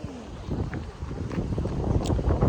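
Gusty wind buffeting outdoors at a beach in San Francisco, a constant low roar with rumbling bursts against the microphone.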